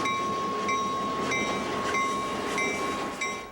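Freight train of the Aberdeen and Rockfish Railroad running, a steady loud rumble with a sustained tonal whine and periodic metallic clanks as cars roll past, no voices.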